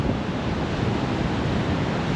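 Small waves washing in at a river mouth on a sandy shore piled with debris, a steady, close rushing surf mixed with wind, no voices.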